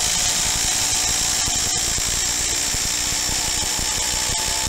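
A Ryobi impact driver drives timber screws, producing a continuous loud, close whirring drone with dense rattling impacts and no speech.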